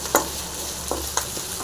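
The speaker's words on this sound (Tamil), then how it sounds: "உப்பையும் போட்டு நல்லா ஃப்ரை பண்ணிக்கலாம்" Steady sizzling of mint, curry leaves and coriander frying in a pan with salt, with a few soft clinks of a utensil stirring.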